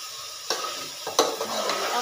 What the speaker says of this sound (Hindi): इसको मैं मिक्स करती आ रही हूँ, ये अच्छे तरीके से मैरिनेट होता रहे